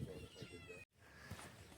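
A newly acquired cat meows near a trailer chicken coop, a couple of soft cries around a brief silent gap, with a person talking over them.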